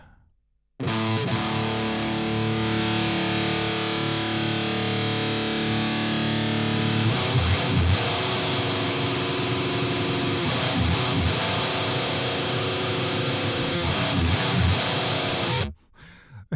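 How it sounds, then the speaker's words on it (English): A heavily distorted metal electric guitar plays a thick, saturated, buzzing riff, loud and continuous, with no voices. "It's not possible to get more distortion, I think."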